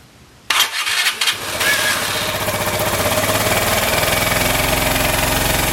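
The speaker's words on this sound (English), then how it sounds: "now I'm going to start the engine to see if we have any kind of gas leakage" Piaggio BV 250 scooter engine cranks with a few starter bursts, then catches and settles into a steady, close idle with a rapid, even putter.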